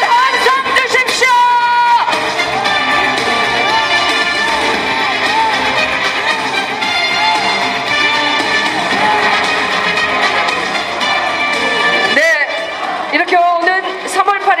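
Crowd at a South Korean People Power Party leadership rally in the Honam region cheering and shouting loudly, a sustained roar of voices with whoops, under an amplified announcer's voice.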